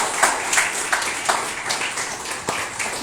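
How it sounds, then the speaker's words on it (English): An audience at a tourism launch event in Goa claps steadily throughout, a dense and continuous round of applause with a few sharper individual claps standing out. "One more round of applause."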